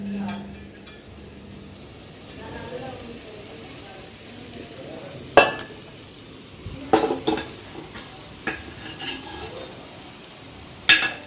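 Mussels going into a pan of tomato masala for a Kerala-style kallummakaya roast, with soft frying and sizzle under clattering utensil stirs and scrapes against the pan, a few sharp metallic knocks standing out near the end.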